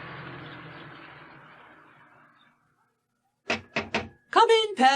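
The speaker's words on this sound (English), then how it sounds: "he knocked at the door." Three quick, sharp knocks on a cottage door sound close and distinct, coming after a fading background hiss and a short silence, with a voice speaking right after.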